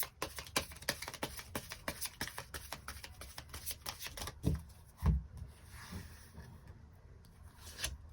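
Tarot cards shuffle up close in a quiet room, a run of quick soft riffling flicks followed by a few heavier taps and slides as the deck is squared, faint overall.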